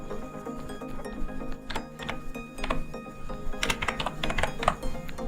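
Fingers type on a computer keyboard, a steady run of light, rapid key clicks with irregular rhythm, close up and with no talking.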